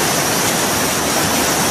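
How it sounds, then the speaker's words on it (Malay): A waterfall roars in a steady, loud, dense wash of water that fills the whole moment, unbroken and with no voices. "Alang-alang kita dah jumpa air terjun."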